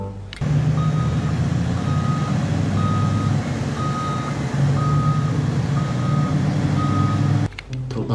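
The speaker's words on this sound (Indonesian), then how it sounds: "di sini ada truk tambang teman-teman" A toy mining truck gives off a loud, regular reversing beep, repeating about once a second over a constant electronic hum, then cutting off abruptly near the end.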